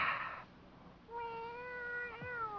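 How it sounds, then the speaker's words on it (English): A cat in a noir detective radio drama gives a single drawn-out meow with a falling end, heard alone and fairly close after a brief burst of noise. "The cat?"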